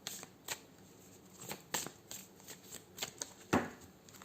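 A deck of tarot cards shuffled and cut by hand, giving a string of soft riffling flicks and sharp card slaps at an irregular rhythm, close and fairly quiet with no talking.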